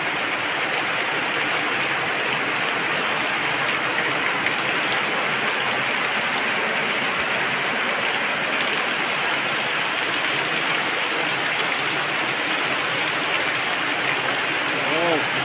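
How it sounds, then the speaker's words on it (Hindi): Heavy rain falls outdoors near a river, a loud, continuous broadband hiss that stays steady throughout. "बारिश बहुत ज़्यादा आ रहा है।"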